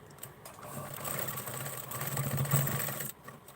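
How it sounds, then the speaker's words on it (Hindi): A sewing machine stitches a double seam on a blouse, a steady close whirring run of about three seconds that stops near the end. "अभी डबल सिलाई यहाँ पे लगा लेती हूँ।"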